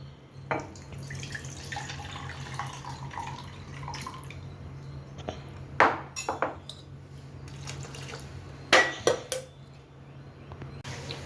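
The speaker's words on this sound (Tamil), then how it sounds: "நல்லா கழுவிட்டு வாஷ் பண்ணிவிட்டு அதுக்கப்புறம் ஊற வைப்போம் நல்லா ஒரு ரெண்டு மூணு தடவை கழுவிடுங்க" Oats and dal are rinsed in water in a kitchen, with splashing, dripping and swishing plus a few sharp clinks of a vessel, quiet and close, in irregular bursts over a faint background hum.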